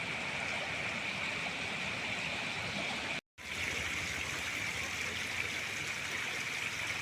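Floodwater pours steadily from a flooded paddy field into a river, making a continuous rushing, gurgling wash that stays even and unbroken apart from one brief gap.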